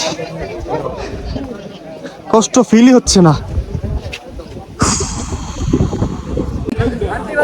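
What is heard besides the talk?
wind blowing on a hilltop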